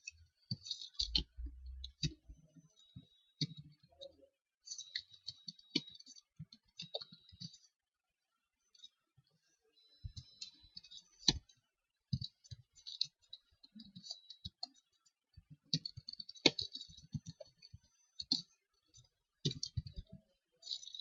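Light, irregular clicking of computer keyboard keys in short bursts with brief pauses, fairly quiet and close, as text is entered into a web design program's split view.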